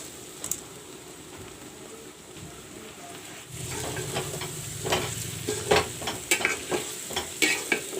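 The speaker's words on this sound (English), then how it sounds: "Fry the rice well, the basmati rice, fry it nicely" Basmati rice frying in a pan with saffron and turmeric, a soft background hiss that grows to louder, closer sizzling with brisk stirring and scraping of the spoon in its second half.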